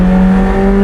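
A McLaren 765LT V8 engine runs at high RPM in a short, steady, loud drone with a strong low hum and no break.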